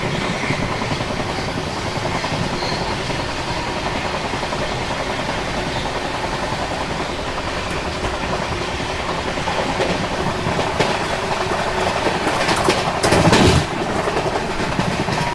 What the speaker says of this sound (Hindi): इस टाइम पे हमारी ट्रेन गुड्डूर जंक्शन को स्किप कर रही है